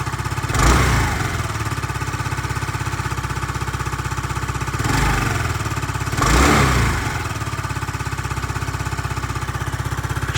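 A Yamaha Cygnus X 125 scooter engine idles steadily close by, with a strong low throb and brief swells where it is revved three times.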